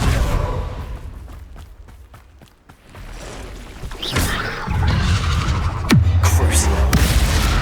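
Hogwarts Legacy Confringo fire spell blast: a rising whoosh and loud booming impacts in the second half, over busy game combat noise with sharp hits early on, no talk.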